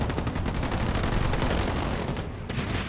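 Dense, continuous gunfire from a real-time strategy battle in Halo Wars 2, with sniper rifle shots amid a massive clash of infantry; a steady, loud barrage of crackling shots and explosions with no pauses.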